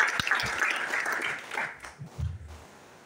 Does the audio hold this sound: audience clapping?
yes